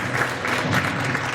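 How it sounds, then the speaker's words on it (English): Brief burst of audience clapping for Sheikh Hassan Walele, a well-known imam, steady and fairly full throughout. "I need a round of applause for this"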